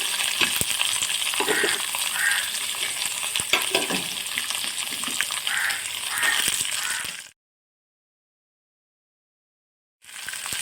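Snake gourd pieces are tipped into a hot pan of golden-browned seasoning for a South Indian stir-fry, giving a steady loud sizzle and crackle for about seven seconds before stopping abruptly, then resuming briefly at the end.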